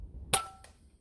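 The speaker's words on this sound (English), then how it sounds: "I'm going to try to go for a keyboard smack." An airgun pellet strikes a laptop keyboard with one sharp, close smack, followed by a fainter second tap, in a quiet cold outdoor setting.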